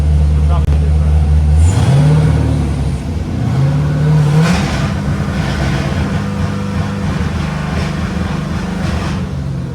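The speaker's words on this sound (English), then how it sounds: "We're probably gonna do a burnout." A 1967 Nova with a 5.3 LSA swap engine revs hard during a burnout, loud rising and falling engine pitch sweeps with a roaring, gritty tail, close by, alongside people talking.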